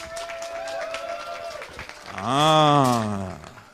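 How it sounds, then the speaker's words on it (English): Spectators at a women's 10m air rifle standing final clap together, a thin scattering of applause under a loud tonal cheer or whoop that swells midway and then fades. "I want to hear you all together with your hands. Give me your applause."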